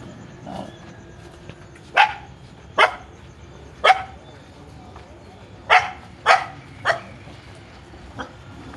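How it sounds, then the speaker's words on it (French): Several dogs barking in Varanasi, India, in short separate bursts from a little distance, around seven barks with pauses between them and a low background murmur. "Il y a plein de chiens."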